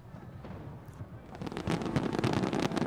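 Fireworks finale at a fireworks festival crackles and pops in a dense, rising barrage, faint at first and then louder, with a distant crowd murmur beneath.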